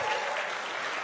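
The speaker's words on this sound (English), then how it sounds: "One more round of applause." Steady applause from an audience at a spring 2024 campus business pitch competition, continuous clapping filling the short moment without pause.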